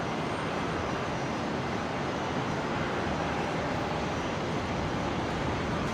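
Qantas "Yam Dreaming" jet takes off from runway 01 right at Brisbane Airport on an afternoon departure, a steady, loud broadband engine roar filling the whole stretch without voices.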